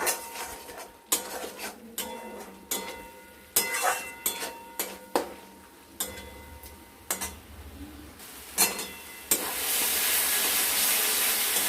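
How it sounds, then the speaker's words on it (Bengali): Spices sauté in oil for a fish curry with lentil dumplings, heard as a series of sharp scraping and clattering stirring strokes, then a steady, close sizzle near the end. "মিক্সড করে এটাকে আমরা কষবো যতক্ষণ না মশলার কাঁচা গন্ধ যাচ্ছে এবং মশলা থেকে তেল ছাড়ছে, ততক্ষণ এটাকে আমরা কষতে থাকবো"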